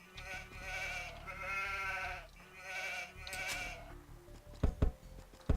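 Sheep bleats from the strategy game Age of Empires II, a run of wavering nasal calls repeating under a steady game backdrop, followed by a few sharp clicks near the end.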